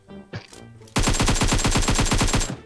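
Rapid automatic gunfire in the mobile battle royale game PUBG Mobile, a loud, evenly spaced stream of about fifteen shots in quick rhythm after a brief quieter moment.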